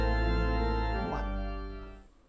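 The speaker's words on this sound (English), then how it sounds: "They're rung every Sunday morning to call people to worship, which is the whole purpose of church bells." A church bell swung in a bell tower rings out loud and close, its sustained metallic tone swelling with a fresh strike partway through and then slowly dying away.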